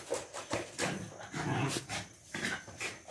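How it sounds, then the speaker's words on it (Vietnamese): Several dogs being teased while a puppy is bathed, giving repeated short growls, pants and yelps in bursts close by, with no talk over them. "Ghẹo mấy con chó."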